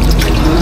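Tap water runs briefly while someone washes their hands in a home kitchen, a loud, close, continuous splashing rush lasting under a second.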